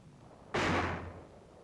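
A single loud, sharp blast from a 4.2-inch mortar firing near Baesweiler, Germany, in 1945 combat, booming suddenly out of quiet and then rolling off over about a second.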